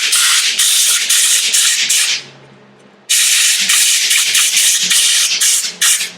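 Compressed air gun blowing out a motorcycle shock part during a rebuild, a loud close continuous hiss broken into bursts, fading briefly before a sharp restart and several more blasts.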